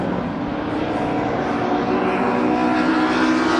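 Race cars, including a Mustang, roar past at Brands Hatch during a Classic and Thunder race, a loud sustained engine drone that swells slightly toward the end with no break.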